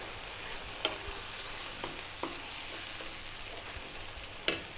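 Baked beans from a can sizzle steadily in a hot pan, a constant close hiss broken by a few sharp clinks of a utensil against the pan.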